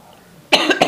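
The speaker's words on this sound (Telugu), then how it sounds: "ఏ కర్మ దగ్గుకుంటా" A person coughs twice in quick succession, close and loud, right after a brief stretch of quiet room tone.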